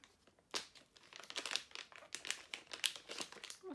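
The packaging of a small Dermalogica moisturizer tube is opened with a run of close crinkling and rustling, irregular papery and plastic crackles building after a brief quiet start.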